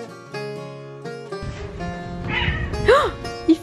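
A cat on a street in Greece gives a short, faint meow near the end, with background music and people talking nearby.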